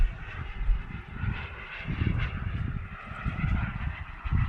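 An Aerofoam F5 RC turbine jet plane flying under power, giving a continuous, fairly loud rushing engine roar that swells and fades slightly as it passes.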